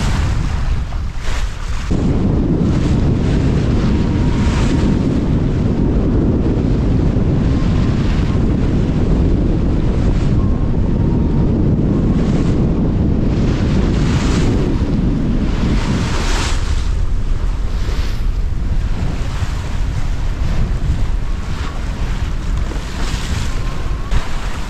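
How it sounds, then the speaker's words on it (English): Strong wind roars across a sailboat crossing a bay beneath hills, with heavy gusting buffeting the microphone and waves surging steadily underneath, loud and continuous throughout. "We're getting a lot of wind at the minute coming down from these hills"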